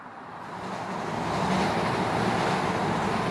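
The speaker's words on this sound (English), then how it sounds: "you can hear the Metro Rail going by" A heavy rumbling elevated Metro Rail train rolls past overhead, its roar building steadily and holding loud, a constant mechanical drone with no voices.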